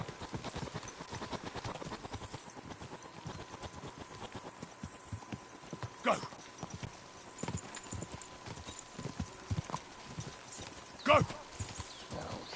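Horse hooves pound in a fast, rhythmic gallop in Kingdom Come Deliverance 2, close and steady throughout, while a rider shouts urgently over the hoofbeats.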